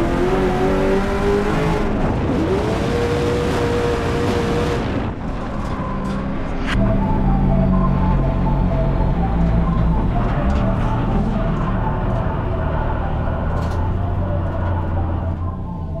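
A drift car launches in third gear, its engine revving loud and close, strained tones climbing then cutting off near five seconds before a rougher rumbling drone carries on.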